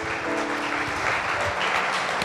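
Church congregation applauding, a continuous wash of many hands clapping at a steady level for a couple of seconds.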